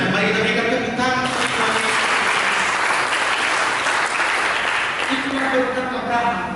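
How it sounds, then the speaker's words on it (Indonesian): A church congregation claps during a Sunday sermon, loud and sustained dense applause. Voices and sung or spoken tones ring out over the clapping at the start and near the end. "Mari kita berikan tepuk tangan."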